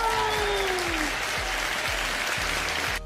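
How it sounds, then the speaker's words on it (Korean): Audience at a children's smoking-prevention class applauds, a dense, even wash of clapping heard close and steady, with a brief whistle-like tone sliding down over it at the start and background thumps, cut off abruptly at the end. "박수! 와!"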